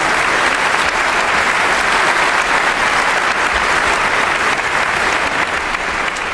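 An audience applauds loudly and continuously, dense clapping filling the room for several seconds with no break.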